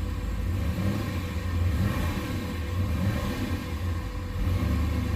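Boosted LS 6.0 V8 engine with Holley Terminator X management running after an initial start, a steady deep rumble close by that swells slightly as gas is given, with no talking.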